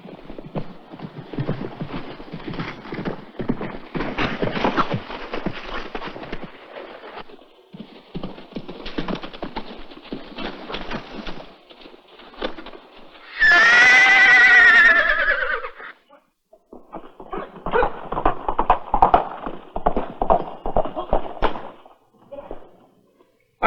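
In a western TV drama, a horse gallops with a steady drum of hoofbeats and lets out a loud, close whinny partway through, then the hooves carry on.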